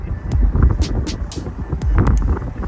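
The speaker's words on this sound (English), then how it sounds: "it's windy out here, so I don't know if you can hear me" Gusty outdoor wind buffets the microphone in loud, rumbling low-frequency bursts that rise and fall continuously near a parked truck.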